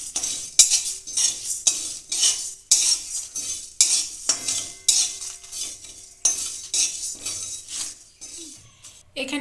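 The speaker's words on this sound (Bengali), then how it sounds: "দিয়ে দিচ্ছি দুটো মৌরি, দিচ্ছি একটা শুকনো লঙ্কা। এগুলো আমি সব ভেজে নেব।" Fennel seeds and a dried chili frying in a pan, with repeated metal spoon scrapes and clinks stirring over a steady sizzle, close and fairly loud, in rhythmic strokes with brief pauses.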